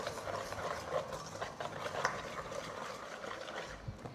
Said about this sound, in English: we're just going to sift that all together into our bowl